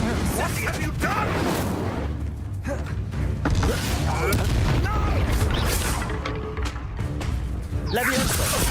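The Incendio fire spell is cast in Hogwarts Legacy, heard as rumbling bursts and booms layered over dense, busy game sound effects throughout.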